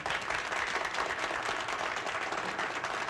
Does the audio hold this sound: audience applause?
yes